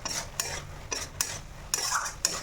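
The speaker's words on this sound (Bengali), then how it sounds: "নেড়ে নেড়ে কষিয়ে নিয়ে" A spoon scrapes and stirs coriander chutney in a pan, with sharp metallic clinks at irregular intervals over a faint sizzle, close and fairly quiet with no voices.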